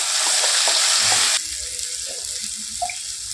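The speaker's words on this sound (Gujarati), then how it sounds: "અને હવે આ તૈયાર કરેલી ગ્રેવી છે ને એ આપણે એડ કરીશું મિત્રો" Spiced gravy stirred in a hot pan with whole spices, a loud bright sizzle for the first second and a half, then quieter scraping and light bubbling with a few small clinks near the end.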